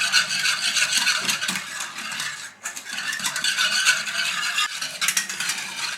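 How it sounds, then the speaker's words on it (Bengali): A whisk works yogurt and milk together in a bowl, giving a steady, busy scraping and rattling rhythm close by, with one brief pause midway. "একটা উইক্স নিয়ে আমি খুব ভালো করে মিশিয়ে দিচ্ছি।"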